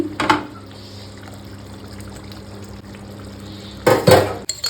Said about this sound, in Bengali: এবার দেওয়া হচ্ছে ঘি।